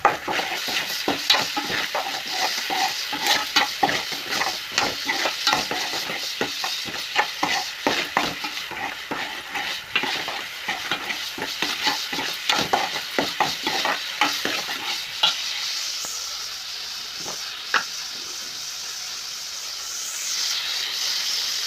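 An onion and tomato paste fries and is stirred in a pan, with constant close hissing sizzle and dense scraping stir strokes through most of the run, easing to a steadier, quieter sizzle near the end.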